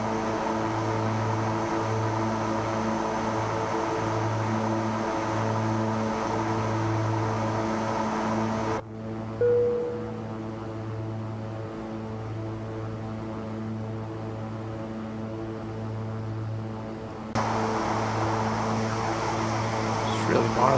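Beechcraft King Air 350 turboprop cruising in the X-Plane 11 flight simulator, a constant droning engine hum with steady tones that abruptly drops to a quieter, muffled drone midway before the full sound returns.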